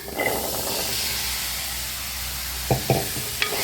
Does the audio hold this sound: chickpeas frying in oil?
yes